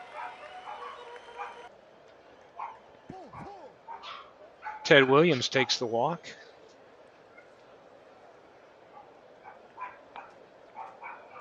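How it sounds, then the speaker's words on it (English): Several dogs bark and yip excitedly indoors in the background, a loud burst of rapid barking in the middle with scattered yips around it, under a man calling a tabletop baseball game. "I've got my dogs going crazy in the background here"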